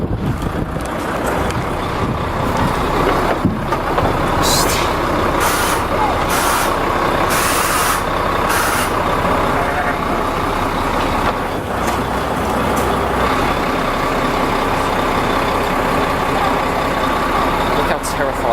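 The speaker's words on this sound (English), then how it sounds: "Got another truck coming in here now" A livestock truck pulls in at a slaughterhouse with a steady, loud engine rumble, heavy wind buffeting the microphone and a short series of hissing air-brake bursts partway through.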